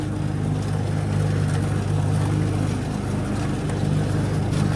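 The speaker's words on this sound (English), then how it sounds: "This mower does like pine cones, that's for sure." A Simplicity riding lawn mower runs steadily up close with its deck lowered, a constant loud engine drone with faint irregular knocks as the blades strike pine cones.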